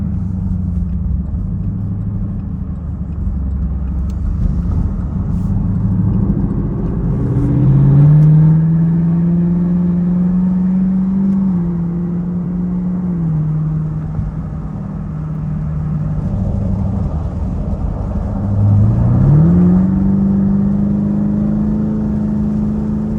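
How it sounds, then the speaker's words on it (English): A 2021 Camaro SS 1LE with its sound tube deleted is driven, heard from inside the cabin. The engine drones low and steady, with two rising revs as it accelerates through gears, and no one talks. "We'll go for a drive, test it out, and make sure it's all good."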